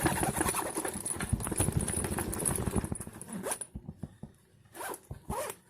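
Dense zipping from a Lyforaz low-profile hard shoulder bag being opened or closed, a quick rasping run of teeth followed by a few shorter tugs and handling noises, close and clear.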